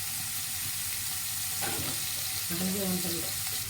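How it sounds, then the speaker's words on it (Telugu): Onions fry in hot oil with a constant close hiss and crackle. A couple of brief tonal, watery sounds rise over it near the middle and end. "కొంచెం తగ్గించి ఆనియన్ వేసుకుంటున్నాను కొంచెం ఫ్రై అయ్యాక జీలకర్ర అయితే వేసుకుంటాను"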